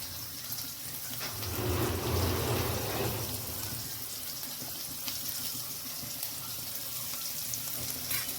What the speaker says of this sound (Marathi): हा कांदा थोडा लाल होईपर्यंत भाजायचा.